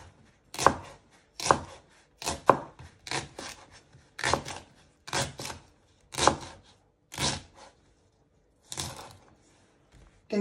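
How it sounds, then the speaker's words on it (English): A knife finely slicing half a leek on a chopping board for bacon and lentil soup, about a dozen crisp, evenly spaced cuts, close and clear with no voices. "And then you just want to finely slice it."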